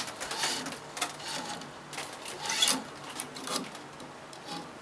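Racket string pulled through the frame of a Prince tennis racket while stringing: a quiet, rasping, rubbing friction in a series of uneven strokes, heard close up with no talk.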